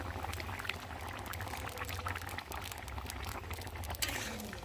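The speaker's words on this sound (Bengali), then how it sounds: "আর এখন আমি ভেজে রাখা মাছগুলোকে দিয়ে আর একটু ঝোলের সাথে ফুটিয়ে নেব।" Fried rohu fish pieces added to a thin, boiling fish curry with potatoes, giving soft bubbling and sizzling with a brief splash, faint and close, running steadily for a few seconds without any voices.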